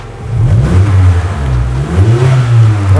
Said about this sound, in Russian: без банки машина и так куда лучше кричит